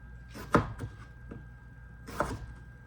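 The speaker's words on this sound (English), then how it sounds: "So I'm gonna continue chopping," Knife chopping potatoes for homemade French fries on a cutting board, a few distinct sharp cuts spaced apart, close and quiet.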